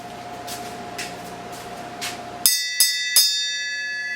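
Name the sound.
ringing a bell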